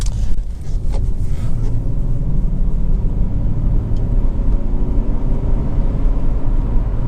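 Loud, steady low rumble of road and engine noise from inside a Honda Accord 2.4 i-VTEC saloon cruising along, a constant drone with faint high ticks and no voices.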